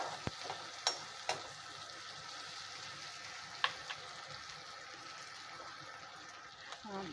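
Onion, ginger and green chili fry gently in a pan over a low gas flame, a soft steady sizzle broken by a few sharp clicks of a spoon against the pan.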